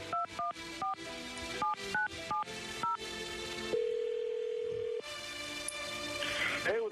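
A telephone is dialed for a call in a live radio studio: a quick string of about a dozen crisp keypad tone beeps, then a steady held tone, followed by further faint line tones.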